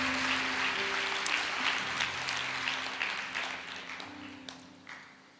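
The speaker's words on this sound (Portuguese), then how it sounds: "Será que você pode dar uma salva de palmas para Jesus Cristo" A church congregation claps steadily throughout, a sustained round of applause that gradually fades toward the end.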